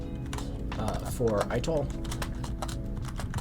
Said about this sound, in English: Scroll down so you can see what I'm typing here.